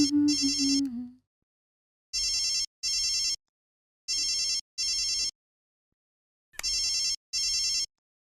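Telephone ringing in a movie scene, a bright electronic ring repeating in short paired bursts with silent gaps, loud and close, preceded by a brief voice-like sound.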